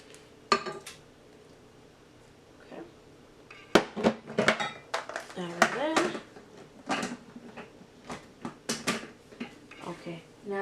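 Cheese and other queso dip ingredients clatter and clink into a Ninja Foodi blender jar in a series of irregular knocks and taps, close and moderately loud, with brief voice sounds in between.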